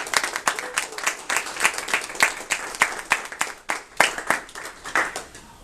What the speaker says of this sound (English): Let's applaud before the rotten fruit.